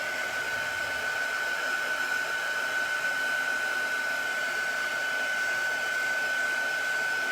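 A hair dryer blows over a chalk stencil design of a patriotic gnome, a loud and steady close-up whir with a constant high whine that never changes across the stretch, with no talk.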